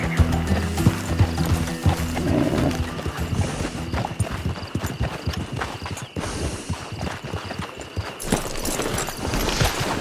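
Horse hooves clip-clopping on a trail in the video game Red Dead Online, a steady rhythmic trot with creaking tack and jingling gear, close and continuous under ambient game sounds.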